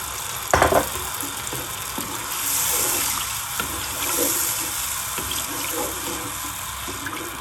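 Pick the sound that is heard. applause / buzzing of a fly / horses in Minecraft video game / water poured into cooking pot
water poured into cooking pot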